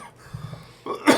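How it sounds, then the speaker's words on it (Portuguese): A single cough from someone in a podcast studio, a short harsh burst near the end following a quieter breathy moment, close to the microphone and otherwise alone. "Uma tosse."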